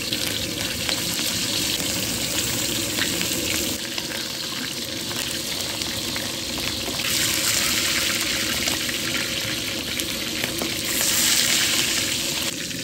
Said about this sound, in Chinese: 起锅烧油，少点点 油热，下锅肉馅